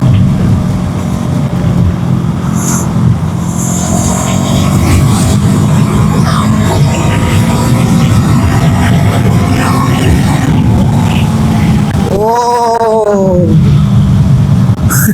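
Steady engine and road roar of a Brixton Crossfire 500X motorcycle moving at high speed, loud and continuous, with wind rush throughout and a brief tonal whine near the end.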